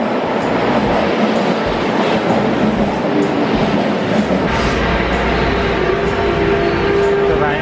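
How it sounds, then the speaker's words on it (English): A loud train arriving at Akabanebashi Station in Tokyo rumbles and clatters close by, steady and continuous, with a rising metallic squeal of wheels toward the end. "Then the train is coming."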